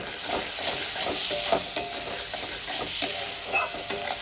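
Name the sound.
spice masala frying in oil for a katla fish curry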